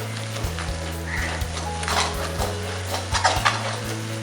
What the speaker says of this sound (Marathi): हा मसाला पूर्णपणे तेलामध्ये भाजला पाहिजे चांगला